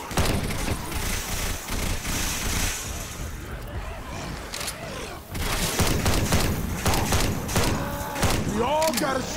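Sustained gunfire in Left 4 Dead 2 as players shoot the Tank during a barricade defense at Burger Tank, dense and continuous with heavy booms and thuds, under game voices and chatter.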